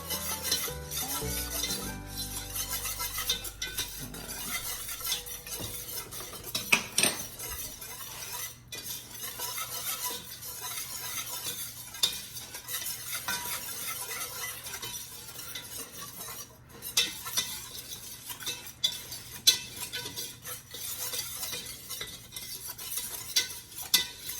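A spoon works an oil and flour roux for chicken and sausage gumbo around a light pot, making steady, continuous scraping and swishing with a soft sizzle underneath, up close and alone.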